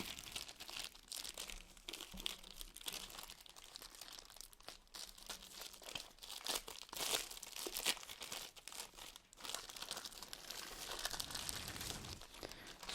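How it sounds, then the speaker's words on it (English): Plastic wrapping on a Niyo Global card package crinkles and crackles up close as it is opened, in quiet, irregular bursts of rustling and crunching with no talking. "So let us open the Niyo Global card package."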